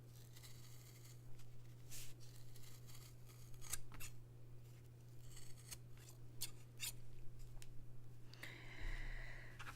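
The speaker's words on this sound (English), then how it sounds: "I got big scissors." Large scissors cut through eight stacked layers of material for a cone-shaped costume, giving a run of crisp snipping and rasping strokes close up over a steady electrical hum, with no talking.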